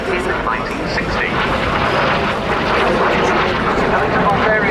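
A BAC jet trainer flying at the RAF Cosford airshow, a continuous loud broadband jet roar sustained throughout, with someone talking over it.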